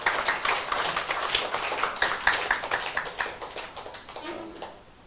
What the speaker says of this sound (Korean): 우리 주님을 사랑하시는 분들만 크게 박수하지요